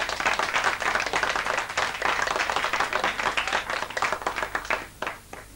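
A studio audience applauds on a 1985 Odense local television show, with dense, sustained clapping that thins and fades toward the end.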